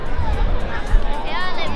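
A growing crowd packs a department store to watch lion dancers, a steady murmur of chatter and babble close by with voices talking over it.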